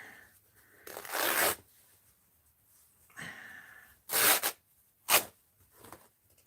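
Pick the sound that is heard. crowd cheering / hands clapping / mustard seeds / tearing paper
tearing paper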